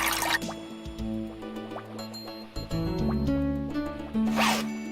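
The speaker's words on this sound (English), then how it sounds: "You never could resist the sound of running water." Running water in the Leisure Suit Larry 6 video game arrives as wet drips and gurgling fills over a musical game soundtrack, with brighter splashy bursts at the start and end.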